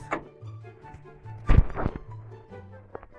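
A truck door in the driving game Grand Truck Simulator 2 opening and shutting as the driver climbs out, giving a few close, solid thunks and clatters over a low steady engine hum.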